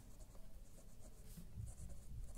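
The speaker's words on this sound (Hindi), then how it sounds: "मैं इसको शॉर्ट करके लिखती हूं" Someone writes on a board or paper during an accounting lesson, giving a faint, close, continuous scratching stroke sound with no talking.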